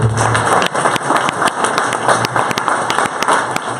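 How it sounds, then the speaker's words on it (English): Audience applause at a startup and entrepreneurship event, steady clapping from a crowd throughout with sharp individual claps standing out. "let's give them a big round of applause"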